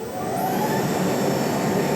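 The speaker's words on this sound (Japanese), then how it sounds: "バキュームの強さを上げると確かに大きな音はするんですけど" An automatic fabric cutting machine's vacuum suction runs at a medium setting, a loud steady whooshing roar that swells in over the first moment and then holds constant, close by with no talk.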